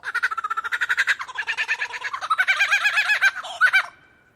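A superb lyrebird mimics a kookaburra's laugh, a loud, close run of rapid rhythmic cackling hoots that build and rise toward a burst of peaks before cutting off, with no other sounds.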